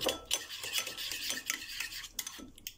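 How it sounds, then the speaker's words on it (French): A spoon stirs a ceviche marinade loosened with olive oil in a bowl, giving soft wet swishes and light clinks of the utensil against the dish in an uneven rhythm, close up with no talking. "Mélanger un petit peu."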